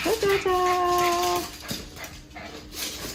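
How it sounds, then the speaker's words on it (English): Dogs excited at feeding time in a New York home whine in a high, drawn-out pitch, then give short yips and whimpers. A voice is faintly present nearby. "the dogs are going crazy now because it's feeding time"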